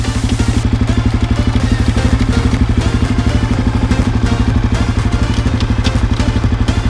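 A Honda CRF 250 F dirt bike engine runs close and loud, a fast even four-stroke thumping pulse held steady throughout.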